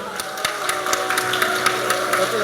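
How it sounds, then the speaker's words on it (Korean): An audience at a paper airplane contest gives a round of scattered, crisp handclaps that build into steady applause. "우리 용기 있게 도전해주신 파일럿분들 모두 박수 한번 해주시고요"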